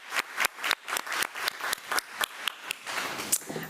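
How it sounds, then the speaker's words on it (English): An audience at a school board meeting claps in a sustained round of applause, with sharp individual claps popping out of the dense, moderately quiet patter. "another round of applause"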